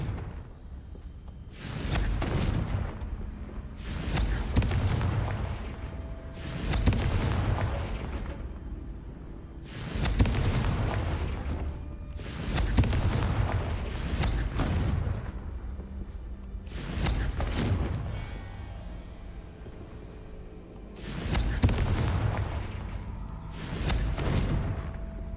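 Confringo blasting curse explosions in Hogwarts Legacy, eight or nine heavy booming blasts spaced a few seconds apart, each a sharp crack swelling into a rumbling roar that fades before the next.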